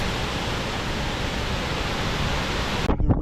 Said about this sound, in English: The falls plunge about 12 meters over a rocky ledge into a scenic canyon, creating a thunderous and photogenic cascade.